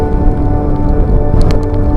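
Heavy, constant rain from a typhoon roars across a surface over floodwater in Santa Cruz, Laguna, a dense wash of noise with no talking.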